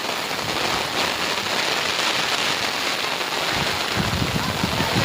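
Rain falls steadily on surfaces in a dense, continuous hiss at even loudness throughout, with no voices over it.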